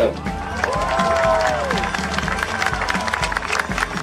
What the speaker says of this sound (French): un applaudissement pour l'Allemande Liane Liebert.